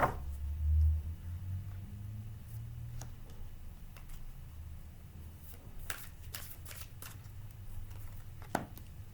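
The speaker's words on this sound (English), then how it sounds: "They're like butter and they shuffle so nicely, even though they fly all over the place." Tarot cards are shuffled by hand, giving soft riffling and sharp flicking snaps, with a few quick clustered slaps near the end, close and fairly quiet with no talking.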